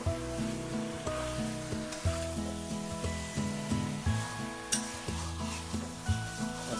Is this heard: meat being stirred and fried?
yes